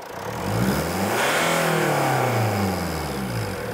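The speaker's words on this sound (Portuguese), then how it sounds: "Agora, vamos dar um pé ao fundo no acelerador." A diesel car engine fitted with a particulate filter revs up hard as the accelerator is pushed to the floor, the loud droning note climbing steeply and holding high, close up with no talking.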